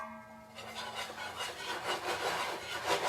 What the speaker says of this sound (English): Okay, just whisk that up.